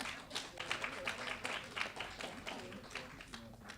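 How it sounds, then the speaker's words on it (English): An audience applauds at an awards launch event, steady light clapping from a small crowd, moderately quiet and continuous throughout. "Round of applause to them."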